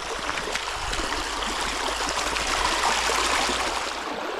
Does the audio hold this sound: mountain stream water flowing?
yes